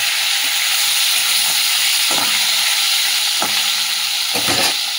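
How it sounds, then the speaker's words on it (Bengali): Shol fish frying in hot oil in a kadai, a loud continuous close sizzle with a few soft utensil knocks scattered through. "এই যে শোল মাছের টক করবো, তার জন্য যে কড়াতে তেল দিয়ে দিচ্ছি, মাছটা ভেজে নেবো আগে"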